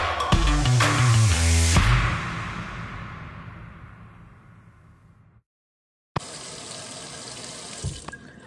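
A faucet runs water onto hair being rinsed out in a sink after a texturizer treatment, a steady splashing rush that fades off, goes silent, then resumes loud and close.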